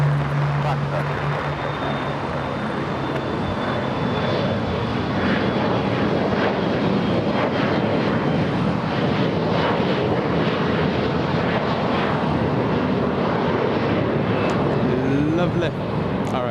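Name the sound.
airplane taking off from runway 25 right at LAX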